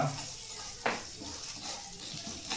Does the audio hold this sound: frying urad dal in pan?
yes